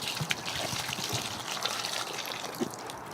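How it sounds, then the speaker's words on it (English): Water is poured out of an ice lantern mold into snow outdoors, a steady close splashing trickle with no voices. "And then I'm going to pour the water out into the snow."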